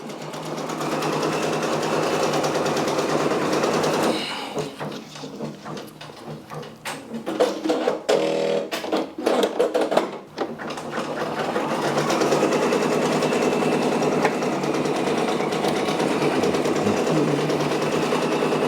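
A Brother Persona embroidery machine stitching a Michael Jackson patch: a loud, steady high-pitched mechanical whir with rapid needle rhythm, a choppier stop-start stretch midway, then the continuous run resumes.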